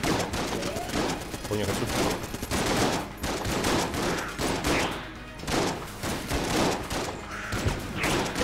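Rapid gunfire from the Gatling Gull boss fight in the video game Enter the Gungeon, a dense continuous barrage of shots running throughout, with someone speaking over it.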